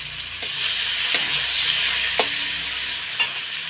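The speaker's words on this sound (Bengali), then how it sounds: "পেঁয়াজ কুচানোগুলো দিয়ে দিলাম আগে এটা আগে ভাজা ভাজা করে নেব" Chopped onions frying in hot oil tempered with cumin and bay leaf, a steady loud sizzle with a few sharp clicks of a spatula stirring against the pan.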